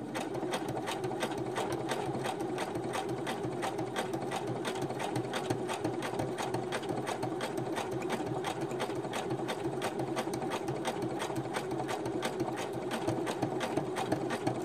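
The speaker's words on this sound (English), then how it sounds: "and then I'm going to do a back stitch" A sewing machine back stitches across a paper junk journal tag, its needle chattering in a fast, even, unbroken rhythm at close range for around fifteen seconds, with no talking.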